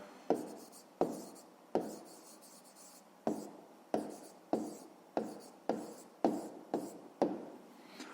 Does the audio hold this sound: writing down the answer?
yes